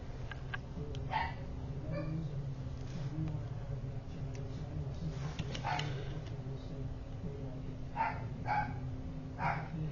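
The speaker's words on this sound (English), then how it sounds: "my dogs are barking in the background" Dogs bark intermittently in the distance, short yips and woofs scattered over a steady low background hum.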